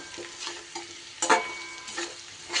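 Potatoes and onions frying in oil with turmeric and chili powder, stirred with a spatula; a close, continuous sizzle with scraping strokes and one sharper clatter midway.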